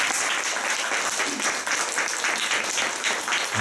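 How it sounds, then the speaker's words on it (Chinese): An audience at a talk and Q&A session applauds to thank the host, with dense, steady clapping that fills the room for several seconds. "我们再用我们的掌声，谢谢我们今天主持人的主持人。"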